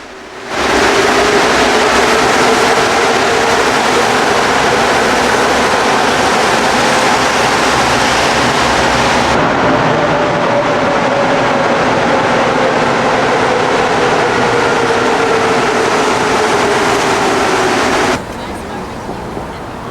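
A Montreal Metro train running through a station, a loud steady rushing rumble with a long gliding tone that holds for most of the run, then cuts off abruptly near the end.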